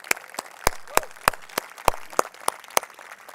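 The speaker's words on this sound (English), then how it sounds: "give her a huge round of applause" Commencement audience at a school graduation ceremony claps in a steady burst of applause, sharp individual claps standing out in a moderately loud, even patter across the hall.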